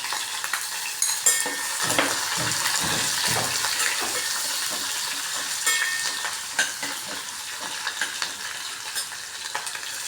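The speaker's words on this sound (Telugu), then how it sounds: "ఇవి వేగిన తర్వాత ఉల్లిపాయలు వేస్తున్నాను పచ్చిమిరపకాయలు వెల్లిపాయలు పేస్ట్ కాకుండా ఇలా ముక్కలు వేసాను" Onions, green chillies and chopped garlic fry steadily in hot oil for a mushroom biryani, a continuous close sizzle broken by a few stirring scrapes and clatters, with no voices.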